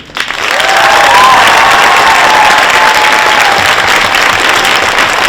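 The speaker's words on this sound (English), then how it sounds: "Would you give a big round of applause one more time for the students?" Large high school crowd at a teacher of the year presentation breaks into loud, sustained applause for students, a continuous roar of clapping with a faint whistle or cheer rising through it.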